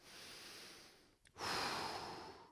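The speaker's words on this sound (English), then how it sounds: "Breathing into this position, 3 to 5 breaths." Slow, deep breaths are taken while holding a yoga stretch: a long soft exhale, a brief pause, then a fuller breath close to the microphone, with no talking.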